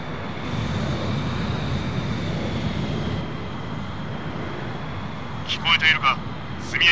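A jet aircraft in Ace Combat Infinity rolls for takeoff with a continuous, fairly loud engine roar, while a radio voice speaks over it toward the end.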